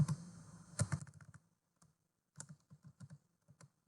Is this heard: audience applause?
no